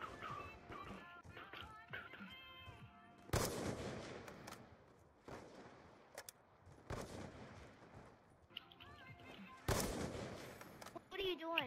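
A video game window shot: sharp gunshots crack loudly in separate bursts amid quieter game clatter, with voices talking in between.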